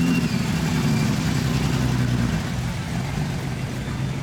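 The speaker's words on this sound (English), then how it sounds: "the car movement goes on all day" Cars cruise past on a beachfront road on a Friday afternoon, a steady low engine rumble rolling by close and continuous, with faint voices in the background.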